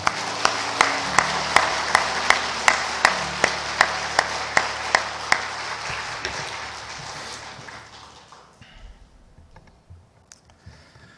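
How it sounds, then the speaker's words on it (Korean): Church congregation applauds to welcome new members, a dense wash of clapping with a steady rhythmic beat of sharp claps running through it, fading out after about six seconds. "우리 큰 박수로 환영하겠습니다"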